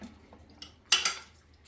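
A lid comes off a dish of prawn pulao at a home meal, giving a brief metallic clink and scrape at close range. A couple of fainter soft knocks come before it.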